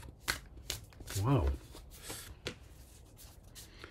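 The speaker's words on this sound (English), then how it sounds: "I've just shuffled the cards." Tarot cards riffle and flutter in short bursts, close and fairly quiet, while a person speaks briefly over the shuffling.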